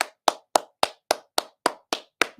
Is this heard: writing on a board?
no